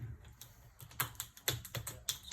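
Kitchen scissors cut through a cooked lobster's shell, making a run of crisp, separate snips and cracks, close and fairly loud, with no voices.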